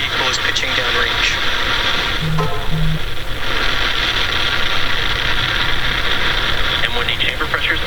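A SpaceX Falcon 9 lifting off on the COSMO-SkyMed mission produces a continuous, loud, broad roaring rumble that stays steady throughout, with a radio-style voice talking over it.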